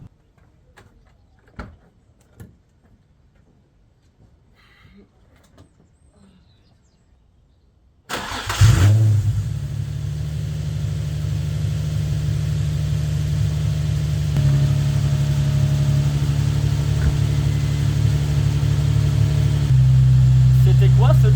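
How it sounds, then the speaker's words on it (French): A Nissan 350Z with newly fitted R8 ignition coils cranks and fires up after a quiet stretch, then settles into a steady, loud idle close by, with faint talk beforehand. "Je vais rentrer dans la voiture et essayer de démarrer."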